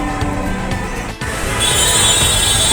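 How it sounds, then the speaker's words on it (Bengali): A metro rail train runs with a steady rumble and some wheel noise, a brief dip midway, then a brighter high whine as it continues, heard close with no talking. "মেট্রো রেলের এই অল্প সময়ের যাত্রা যেন শীতল পরশ একটি আশীর্বাদ স্বরূপ"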